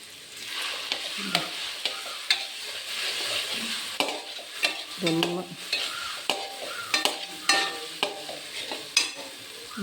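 Crushed ginger, garlic, cloves, cinnamon, fennel and black pepper frying in a pan for chicken curry, with a soft steady sizzle, scattered spoon scrapes and stirring clatter, close up.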